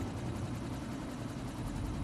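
Steady, continuous rotor and engine rumble of a helicopter in the video game Quantum Break, loud and constant with no talk over it.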